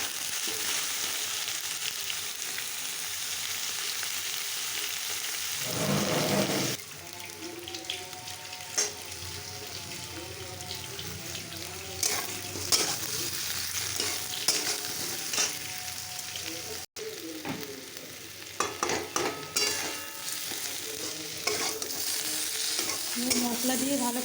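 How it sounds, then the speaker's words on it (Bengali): Soybean chunks are fried with already browned potatoes in a pan for a curry, a continuous loud sizzle with intermittent stirring scrapes and clatter, close throughout, a brief louder watery burst early on, no speech. "তারপরে সোয়াবিনটা দিয়েও এবার একটু ভালো করে ভেজে নেব"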